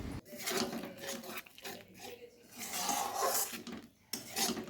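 Spices for mushroom masala are stirred and fried in a pan over a low flame, with repeated scraping and rubbing of a utensil against the pan in uneven strokes, close and fairly loud.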